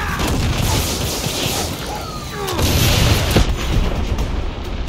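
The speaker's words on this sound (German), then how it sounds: "hab den Panzer mit 50 Raketen zerstört" A tank blown apart by rockets in Far Cry 6 erupts in heavy booming blasts and crashing debris, loud and dense across several seconds amid ongoing battle noise.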